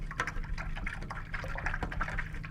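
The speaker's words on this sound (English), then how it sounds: "I'm swishing it in the water" A paintbrush swishes through a cup of water, a continuous close sloshing and trickling with small splashy bursts and no talk.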